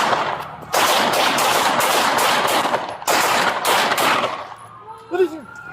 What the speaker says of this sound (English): 2-8, shots fired, shots fired!